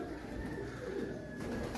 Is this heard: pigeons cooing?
yes